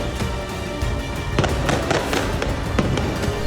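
Sharp cracks of gunfire during street fighting between Israeli troops and resistance fighters in al-Far'a, West Bank, ring out in an irregular series of loud reports over steady background noise.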